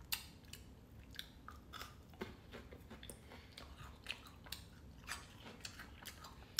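Small chocolates are chewed close up, producing faint, irregular crunchy bites and soft mouth clicks in a quiet room with no talking.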